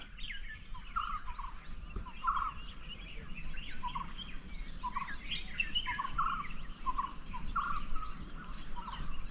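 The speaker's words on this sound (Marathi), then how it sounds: "शांतपणे ऐका या पक्ष्यांचा आवाज" Many birds call and chirp together in a forest in a steady, busy chorus, moderately distant and fairly quiet, with no voices.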